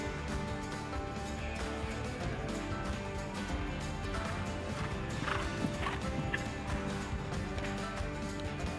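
Horse hooves of a 9-year-old mare in a show jumping futurity class, with soft irregular thuds moving across the arena under a steady background hum, fairly distant and moderately quiet.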